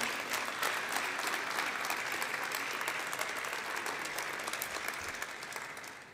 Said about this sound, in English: Let's have a nice round of applause as well for the government of PEI.